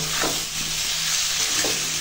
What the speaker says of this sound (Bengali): একটু তেলের উপর দিয়ে বেশ কষানো মানে হচ্ছে ভাজা, তো সব একসঙ্গে একটু কষিয়ে নেব